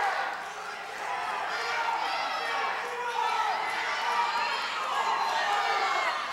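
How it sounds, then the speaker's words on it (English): High school wrestling match crowd in a gym getting loud, a steady wash of cheering and shouting from many spectators, with commentary talking over it throughout. "The crowd getting into it."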